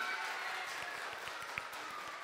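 Preschool children applaud at a chamber concert honouring a flautist, giving a soft, steady patter of small hands that carries through the whole stretch, with a faint voice and a louder swell right at the end.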